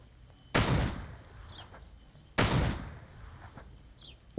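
Two loud gunshots ring out about two seconds apart in the video game American Marksman Pro. Each crack is sudden and sharp, then dies away, with faint chirps heard in the gaps.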